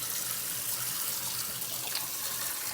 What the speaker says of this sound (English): So we're going to fill this back up with water.